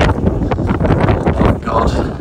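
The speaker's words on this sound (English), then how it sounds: "it's very, very windy" Loud wind buffets the microphone throughout with a heavy low rumble, while a voice talks faintly underneath.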